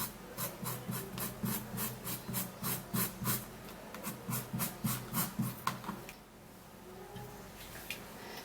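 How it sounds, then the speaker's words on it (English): The inside of a banana peel is scraped in quick, regular strokes, about twenty rhythmic rasps close by, before the scraping stops and leaves near silence. "banana peel. Now this is how we're going to be using it guys. We're just going to be scraping it just like this."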